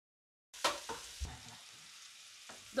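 Vegetables with ginger cook in butter in a pan for roast venison with cranberries, giving a soft sizzle with a few sharp stirring scrapes and clinks after a brief silence.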